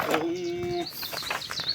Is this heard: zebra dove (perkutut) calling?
yes